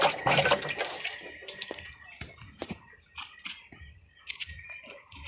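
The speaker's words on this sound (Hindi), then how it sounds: "पानी को हिला देना।" Water sloshing and splashing as it is stirred in a fish farming tank, with irregular close swishes and small splashes, busiest at the start and then continuing in scattered bursts.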